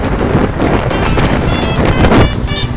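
Strong wind roars continuously against the microphone on a mountain ring road in the Bukit Barisan range near Mount Talang, a loud buffeting rush with no pauses.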